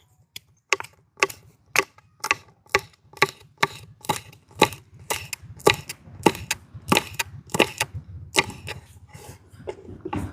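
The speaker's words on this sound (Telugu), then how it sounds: "ఈలోగా మనం మిరగాయ ముక్కలు అయితే కోద్దామండి" Green chillies chopped into pieces with a knife on a board while cooking a Nizam-style chicken curry, a steady run of about twenty sharp, close knocks in an even rhythm, heard alone.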